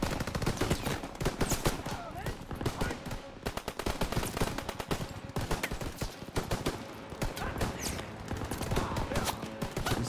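Rapid bursts of Tommy gun fire in a Call of Duty WW2 battle, dense cracking shots crowding the whole stretch with only a brief gap near three seconds, loud and close with faint background voices.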